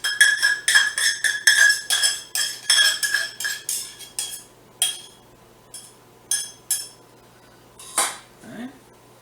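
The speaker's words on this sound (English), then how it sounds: "Grab a knife, help scrape all that ketchup out." A knife scrapes ketchup out of a container with a quick run of close, sharp clinking strokes that thin out into a few separate scrapes near the end. No voices.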